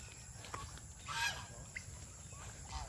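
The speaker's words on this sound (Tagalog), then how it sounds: "So ito yung mga gansa namin." Faint honking calls from farm geese, a few scattered short honks over quiet background noise, one louder burst near the middle.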